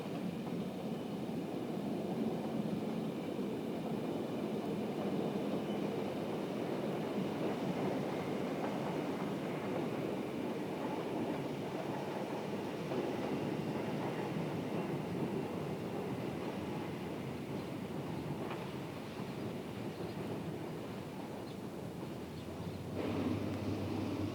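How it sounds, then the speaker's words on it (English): A Swiss Federal Railways Seetal line train with a red and brown motor baggage car and driving trailer rumbles steadily past, a continuous rolling roar with faint rail clatter that eases slightly near the end. "Here we see a Seetal Bahn train of the Federal Railways"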